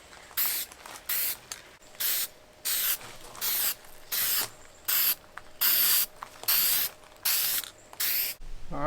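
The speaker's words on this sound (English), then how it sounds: "So just keep it moving when you're painting like this." Aerosol spray paint hissing in a dozen or so short, regular bursts with brief gaps, applying black paint to a homemade drum smoker with no welding, close and fairly loud with no talking.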